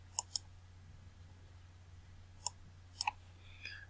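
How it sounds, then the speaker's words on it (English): Mouse clicks and typing on a computer keyboard: a few sharp clicks and key taps spaced out over a quiet room hum, close by, with no talking. "I'm just going to click one time, and I'm going to type RRHS."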